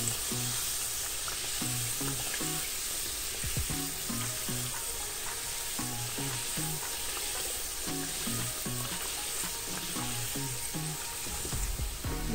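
Pastel dough frying in hot fat makes a steady, even sizzle with a faint periodic rhythmic tapping beneath it, continuous and moderately quiet.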